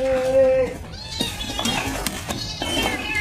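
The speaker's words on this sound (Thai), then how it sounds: "แมว" A cat gives a drawn-out meow close by, followed by mixed rustling, scuffling noises.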